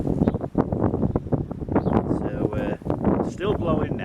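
Strong, gusty wind buffets the microphone outdoors near a garden shed whose roof was torn off, roaring in uneven surges, with a person speaking over it.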